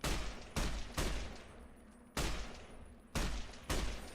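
5.56 rifle fire in Fallout New Vegas cracks out in six loud, separate shots at uneven intervals, each with a booming punch and a decaying tail, with no talk over it.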